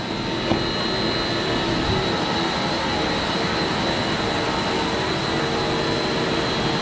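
A water slide's drive motor running at a water park after winterization, a steady loud broadband hum and whir that holds without a break, with no voices.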